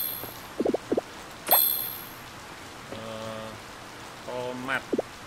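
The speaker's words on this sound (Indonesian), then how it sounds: "Ya, mantap hujan. Saya suka hujan." Steady in-game rain falls over the farm in Harvest Moon: Light of Hope, a soft continuous patter with short chiming and clinking game effects rising above it now and then.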